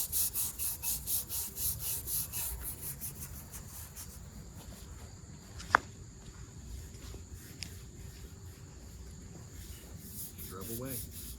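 A brush scrubs caked-on grease off a surface after a spray of degreaser, with rhythmic rubbing strokes at first, then a steadier scraping texture, as people talk over it.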